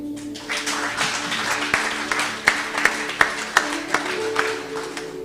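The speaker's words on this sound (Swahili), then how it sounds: "Bwana pigiwe makofi" A church congregation claps for the Lord during a service, sustained applause with sharp individual claps standing out near the end, a faint voice underneath.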